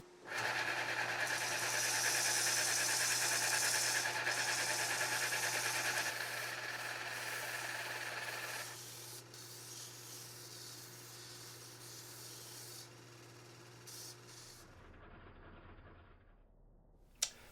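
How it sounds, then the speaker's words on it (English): A radius disc sander smooths the leading edge of a guitar nut with a loud, steady whirring hiss that eases and thins midway, then spins down into quiet near the end. "I'm going to go over to the radius disc sander and I'm going to smooth out that leading edge."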